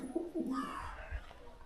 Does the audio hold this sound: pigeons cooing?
yes